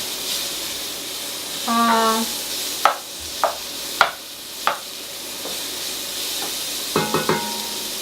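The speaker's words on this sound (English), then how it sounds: "So now we are going to let it fry for around 2-3 minutes" Onion fries in a pan with a soft, steady sizzle, punctuated by several sharp scraping strokes and clinks of a utensil stirring, plus a brief tonal squeak early on; no talk.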